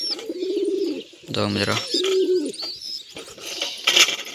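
Wild pigeons coo in soft, repeated low burbling phrases nearby, with a few higher chirps, while someone speaks briefly in between.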